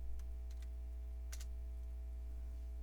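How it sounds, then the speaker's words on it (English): A few faint, sparse keystrokes on a computer keyboard while commands are entered during a Windows 2000 install in VirtualBox, clicking softly over a steady low electrical hum. "then type in cd space i386, then type in WinNT"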